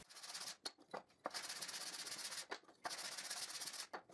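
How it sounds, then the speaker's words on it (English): Hand sanding of homemade wooden bar clamps, a steady close rasping scrape in long strokes broken by brief pauses, fairly quiet with no voices. "And I sand them."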